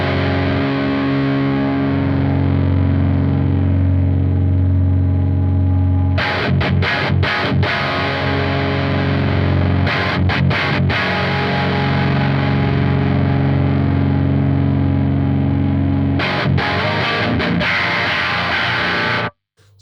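Heavily distorted electric guitar through a Victory Sheriff EL84 amp: thick sustained chords ring loud and close, broken by bursts of choppy muted strums, then cut off abruptly at the end.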